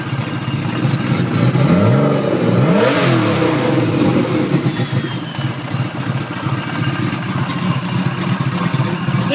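A BMW E36 M3 with BavSol S3 cams and 80-pound injectors blips its throttle loudly nearby, the engine note sweeping up and back down in a couple of quick revs before settling into a lumpy, steady idle, with no talking.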